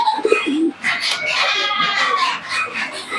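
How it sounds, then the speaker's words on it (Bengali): Pigeons coo softly close by, low throaty calls mixed with other bird sounds and rustling; no clear talking. "দুটো কবুতরই দেখুন খুবই সুন্দর কবুতর"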